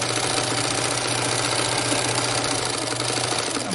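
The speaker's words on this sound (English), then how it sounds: "Then sew forward, up." A Bernina 830 sewing machine stitching a fabric tool roll, giving a steady, loud mechanical whir with a fast regular stitching rhythm that runs continuously without pause, no voices.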